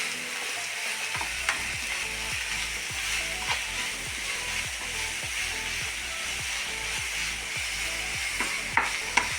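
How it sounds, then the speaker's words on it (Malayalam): Spiced masala for puttu sizzles steadily in a pan, with regular scraping strokes from stirring throughout and an occasional sharp tap of the utensil. "നന്നായിട്ട് വഴറ്റണം."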